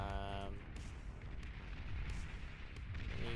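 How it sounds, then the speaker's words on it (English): Bombing-run explosions in the video game Beyond All Reason, a dense stream of low rumbling booms and blasts that rolls on throughout, moderately loud, with a speaking voice briefly at the start and end. "Meanwhile, we see a bombing run coming over here."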